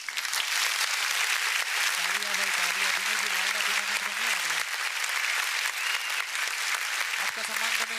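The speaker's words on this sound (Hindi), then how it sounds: "तालियां भाई तालियां" Applause from the crowd at a Rajpurohit Cricket League 2023 welcome ceremony, steady dense clapping across the whole stretch, with a voice talking over it at times.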